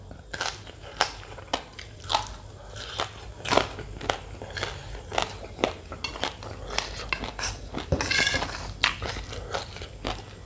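Crunchy fried pork rinds are chewed close to the mic, with irregular sharp crackles and crunches repeating over ten seconds, plus a few light clinks of dishes and no talking.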